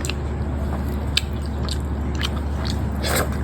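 Food served on a banana leaf, with dal and ghee, is eaten up close: wet squishy chewing and soft crunches over a steady background hum, with no talking.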